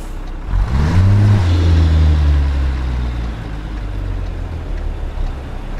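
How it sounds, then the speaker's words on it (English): Cars on a road approach and pass, engine and tyre noise swelling loudly to a close pass-by with a falling pitch sweep, then easing into a steady rumble of continuing traffic. "Got a couple cars coming."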